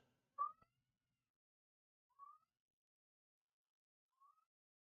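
A house cat meows three times close by, one sharp cry followed by two softer, shorter calls spaced about two seconds apart, in an otherwise quiet room.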